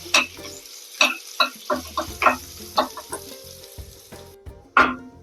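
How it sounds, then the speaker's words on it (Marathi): Chili pieces tempering in hot oil for a chutney give off a loud sizzle, punctuated by sharp crackling pops about every half second, with a brief quieter pause before a final burst. "आता ही फोडणी आपण या चटणीवर टाकून घेऊ"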